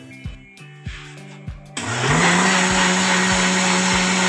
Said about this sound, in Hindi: अब बेसन को मैंने ग्राइंड कर लिया है।